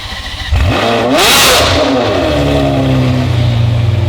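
A Ferrari F12 twin-turbo engine fires up and revs hard, the pitch sweeping up then settling into a loud, throaty rumble close by.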